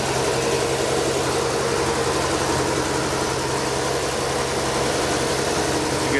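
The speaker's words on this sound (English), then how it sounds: "You can see hear the engine running a little fast." A 1967 Ford F-100 service truck's engine running at a slightly fast high idle from its cam, a steady close rumble with constant broadband noise and no talk.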